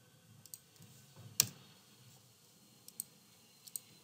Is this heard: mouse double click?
yes